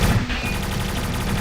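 SMG gunfire exchanged during a video game fight, a dense, continuous rattle of rapid shots from two sides trading fire, loud and steady throughout with no pauses.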